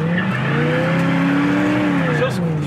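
A 1963 Chevrolet Nova SS spinning its tires, with a steady engine roar and rising, wavering tire squeal close by, while people talk over it.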